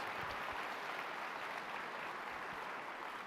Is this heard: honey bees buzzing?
no